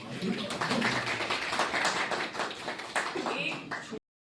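An indoor audience at a communication skills and email etiquette session applauds in a dense, continuous patter that cuts off abruptly, with voices mixed in.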